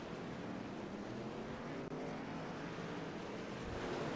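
Race car in iRacing at Circuit of the Americas, an IROC series car grinding over rubbered-in track and rock formations in the corners, giving a steady, loud, broadband roar that continues without a break and with no voices.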